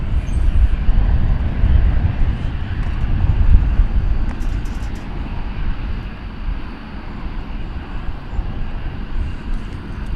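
Heavy airliners roar at DFW Airport at night, a loud broad jet rumble filling the whole stretch, surging a little early on and easing slightly later, with no voices.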